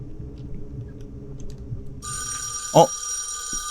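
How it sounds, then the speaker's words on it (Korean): A telephone starts ringing partway through, with a bright sustained electronic ring over a quiet room and a single brief thud as it sounds. "전화다."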